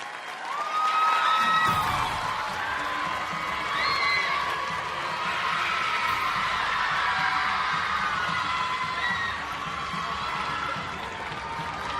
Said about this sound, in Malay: Tenaga luar biasa, sorakan luar biasa.